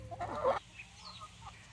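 Chickens in a backyard coop give a short burst of close clucking near the start, then only faint, scattered bird calls remain over a quiet background.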